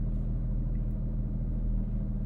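Porsche 911 GT3 sitting at a traffic light, its engine giving a low steady idle rumble heard from inside the car, even and unchanging with no clear rev.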